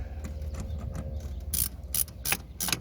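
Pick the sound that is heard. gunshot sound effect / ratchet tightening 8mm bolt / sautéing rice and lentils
ratchet tightening 8mm bolt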